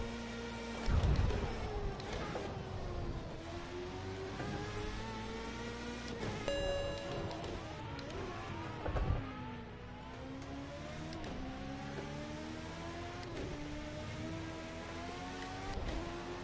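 An F1 race car in Project Cars 2 at the Portugal Grand Prix screams down the home straight, its engine revving high through repeated gear changes, loud and continuous.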